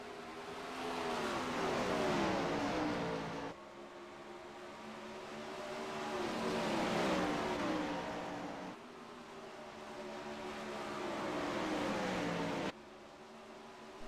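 World of Outlaws sprint cars race a heat on the dirt oval at Volusia Speedway Park, their engines roaring and rising and falling as they sweep past in repeated waves, loud and sustained across several abrupt cuts.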